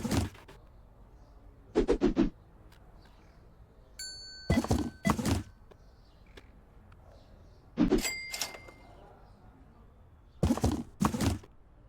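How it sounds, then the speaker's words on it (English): A cashier-counter service bell in the Mall Simulator video game rings twice with clear bright dings several seconds apart, among intermittent thunks and clatter. "You know what's the point of ringing the bell?"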